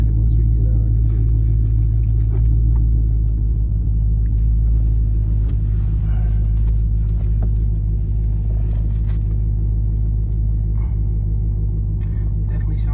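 A Dodge Charger Hellcat engine idles with a low, steady rumble, close and continuous the whole time.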